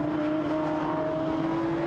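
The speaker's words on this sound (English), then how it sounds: "Leaving the pit lane, including the Las Maras Racing entry, the McLaren, Luke Brahms and Duncan Houseman." GT4 race cars leave the pit lane at the Nürburgring with a steady, loud engine drone that holds a constant pitch for a couple of seconds.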